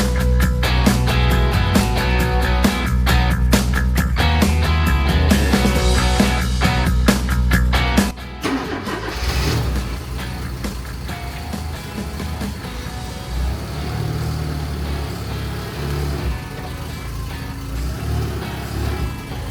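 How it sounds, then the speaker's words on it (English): A 1970 Dodge Dart Swinger backing up under its own power on a newly fitted transmission, its engine running loud and close with a heavy rumble that drops in level partway through as the car moves. "So this will be the first time of it moving under its own power on this transmission."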